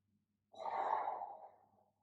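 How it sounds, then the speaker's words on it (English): A single long exhale, close and soft, breathed out during a therapy ball exercise in a class for knee pain, in a quiet room with no talk. "make sure you're breathing."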